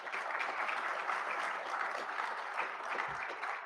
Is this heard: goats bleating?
no